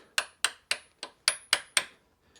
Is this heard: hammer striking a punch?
yes